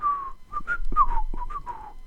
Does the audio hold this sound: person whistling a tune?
yes